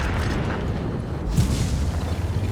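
A tank cannon fires in a tank battle video game, a single heavy boom about midway through, set over a constant low rumble of engines and battle ambience.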